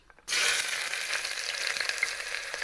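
Onion hits hot mustard oil with a sudden loud sizzle that jumps in at once, then keeps up a bright crackling fry with small popping spurts, close to the pan and with no talk.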